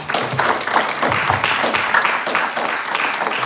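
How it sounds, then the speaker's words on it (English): An audience at a live open mic gives a round of applause, a brief burst of dense clapping with some cheering, fairly close and steady. "So if we just want to give one more round of applause."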